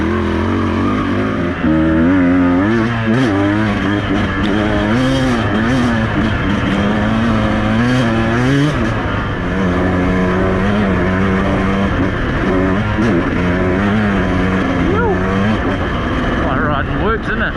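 A Beta 200RR two-stroke motorcycle rides hard around a dirt track, its engine loud and continuous, buzzing and revving up and down through gear changes and wind roar.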